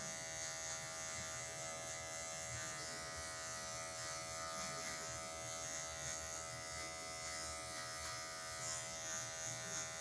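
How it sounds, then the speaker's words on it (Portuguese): Electric hair clipper with its blade set low, trimming hair for a mid fade, giving a steady, unbroken motor buzz that holds close and even throughout, with no talk. "estou usando a 0 baixa e venho usando somente a ponta da máquina para remover essa marcação"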